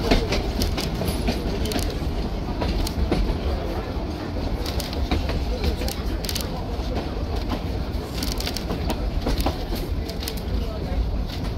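A century-old wooden train rolls along the rails to Sóller on Mallorca, a steady loud rumble with rhythmic clicks and clatter, birds faintly audible, heard from inside a carriage.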